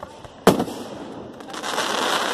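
A single sharp Fourth of July firework bang goes off, followed by a crackling, hissing rumble of more fireworks bursting in the distance.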